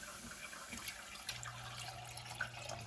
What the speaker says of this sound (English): And I'm gonna add 3 cups of water.